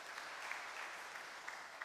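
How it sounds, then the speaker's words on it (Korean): A church congregation claps briefly during a meeting, giving soft, fairly distant applause that stays even for a couple of seconds. "박수로 함께 좀 격려해 주시고요"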